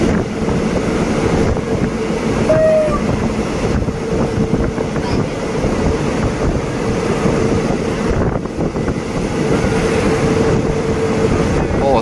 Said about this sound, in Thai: กำลังจะเข้าจอดสถานีรถไฟ300ยอดนะ